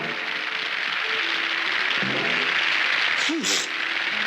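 Broad, steady audience applause fills the whole stretch, with a brief whistle-like sweep near the end and no clear speech over it.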